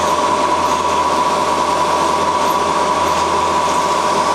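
A scratch-built CNC machine with an automatic tool changer cuts with its spindle at 3000 RPM and a 5.5 inch-per-minute feed, giving a loud, steady, close roar with a constant whine running throughout.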